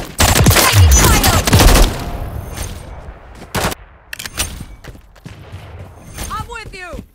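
A Call of Duty firefight opens with a loud, dense volley of rapid gunfire that runs for about two seconds. Scattered single shots follow, along with shouted voices and radio chatter.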